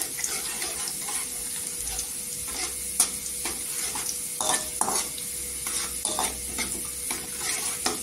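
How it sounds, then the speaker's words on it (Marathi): Garlic frying in hot oil until golden, a steady close sizzle with frequent stirring clinks and scrapes of the pan running throughout. "लसणीला गोल्डन कलर आला पाहिजे इथे, म्हणजे लसणीचा टेस्ट उतरतो।"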